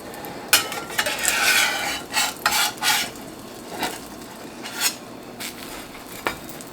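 Metal spatula scrapes and clinks against a pan while a grilled Reuben sandwich is flipped, a series of short scraping strokes and taps, close and fairly quiet, with no talking.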